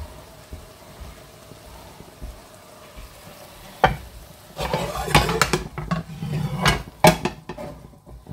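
A frittata goes back into a frying pan, with a soft sizzle under clatter and scraping of a utensil and pan, building to several louder knocks and scrapes.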